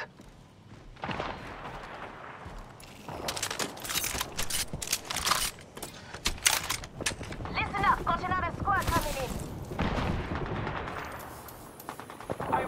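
Rapid gunfire from Apex Legends in repeated bursts and single shots, loud and close, mixed with explosions and game voice callouts over the shooting.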